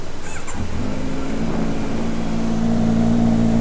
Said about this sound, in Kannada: ಸ್ಟಾರ್ಟ್ ಮಾಡೋಣ ನಮ್ಮ ಸೂಪರ್ ಬೈಕ್ ಬೇಬಿ